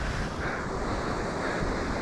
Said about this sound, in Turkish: Aa, burada da nehir akıyor.